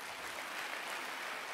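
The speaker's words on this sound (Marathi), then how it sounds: "जरा टाळ्या वाजवा." An audience at a Rakhi ceremony claps together in a brief, even burst of applause, moderately distant and steady throughout with no voices on top.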